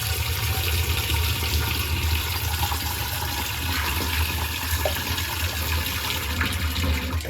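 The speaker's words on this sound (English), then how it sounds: "Open the tap." Water running from a kitchen sink tap into a cooking pot, a loud steady close gush of flowing water with no talk.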